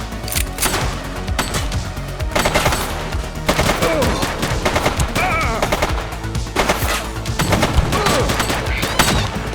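Rapid gunfire in a video game shootout from The Precinct, dense volleys of shots cracking close and loud throughout, with no pauses and no talking.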